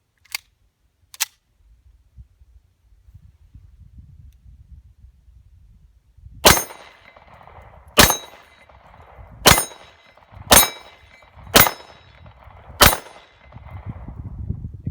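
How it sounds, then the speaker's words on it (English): Six shots from a WWII Walther P38 pistol made at the Spreeworks Arsenal, fired at a steady pace of roughly one every 1.3 seconds, each sharp crack ringing off steel targets, after two light clicks and a low rumble. "next, the Walther P38 made at the Spreeworks Arsenal."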